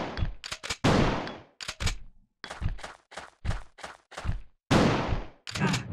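Gunfire from the Resident Evil 4 Demake video game: sharp, loud shots in quick bursts and single cracks, separated by short silences, with no talking over them.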